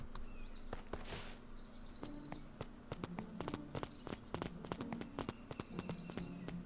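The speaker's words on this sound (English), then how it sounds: "Luka heard a group of footsteps approaching." Footsteps of a group approaching in the video game Beacon Pines, a quiet run of soft, irregular steps over faint ambient game sounds.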